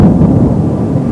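Deep, rolling thunder rumbles through a stormy day, a loud, sustained low roar that swells early and lingers across the whole moment with no voices present.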